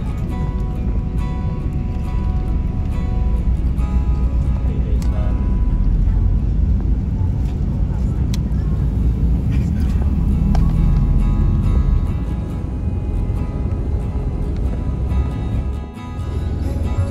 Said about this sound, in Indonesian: bis yang mau keluar nih.